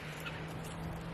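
Chickens kept inside a greenhouse give a brief, faint clucking call against a low steady background hum.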